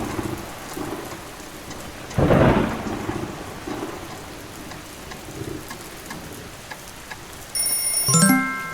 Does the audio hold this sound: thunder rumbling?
yes